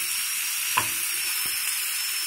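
Green peas and cashews fry on high flame in a steady bright sizzle, with one soft tap of a utensil partway through and no voices.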